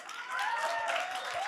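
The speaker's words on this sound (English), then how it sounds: "Can we give him a round of applause?" An audience applauds a moderator at the I-YES 2026 event in Australia. Brief, moderate clapping swells quickly, and a few cheering voices ring over it.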